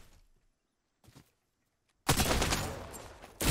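Gunfire in the Apex Legends video game: after near silence with a few faint sounds, a loud sustained burst of rapid shots erupts and continues, close and dense, with another burst starting at the end.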